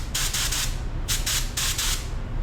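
A Temu DV1 clone paint spray gun sprays in repeated short hissing bursts, close and loud, over a steady low compressor rumble, with pauses between the trigger pulls.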